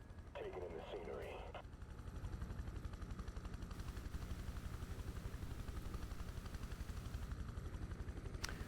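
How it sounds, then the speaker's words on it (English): A helicopter in Prototype 2 drones with a steady rotor thrum, close and continuous, under faint game ambience, with a brief burst of other game noise early on. "Cool thing about the helicopter is that unlike the tanks, the helicopter actually has a way to protect itself against enemy projectiles"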